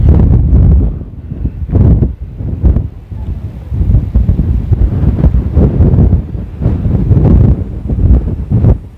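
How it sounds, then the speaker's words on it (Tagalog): Strong wind at a high tourist spot called Tarangban buffets the microphone in loud, gusty bursts of low rumbling roar, almost continuous throughout, with no clear voices. "grabe ang lakas ng hangin"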